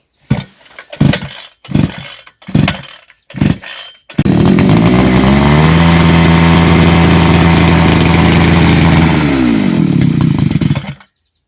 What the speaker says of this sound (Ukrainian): Накачали, і кнопочка. Включаємо і шворкаємо.